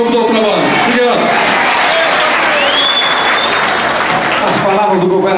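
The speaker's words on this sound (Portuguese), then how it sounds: "Uma salva de palmas para vocês" A crowd at a Ceará state government bill-signing ceremony claps and applauds continuously, dense and steady throughout, with some cheering and voices mixed in.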